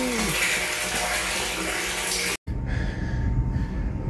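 Water pumped outdoors into a tote tank, a loud steady gushing rush that cuts out for a moment and then resumes with a slightly quieter, rougher flow.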